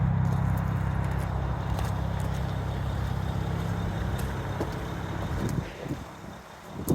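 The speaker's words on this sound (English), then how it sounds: "Let's get out and we'll hear that lovely straight 6." Steady, close idle of a 2009 BMW 335i M-Sport DCT straight-six, its low, even burble running alone before easing off near the end as a few faint knocks and scuffs come through.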